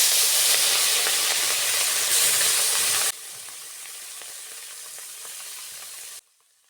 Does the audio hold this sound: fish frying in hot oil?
yes